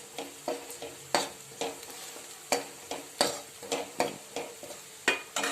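Turmeric and asafoetida sauté in hot oil with a steady sizzle, while a spoon scrapes and stirs the pan in a quick, repeated rhythm of a dozen or so sharp strokes, close and clear with no speech.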